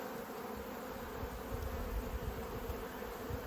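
Honey bees swarm thickly over an opened brood box in a hive, a dense, steady, close buzzing that holds even and unbroken throughout.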